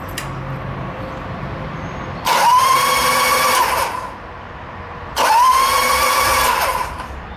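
A Harley Sportster Ironhead's starter cranks the engine with the spark plugs out, two separate whirring bursts of about two seconds each with a rising then steady whine, close and loud over a quiet background.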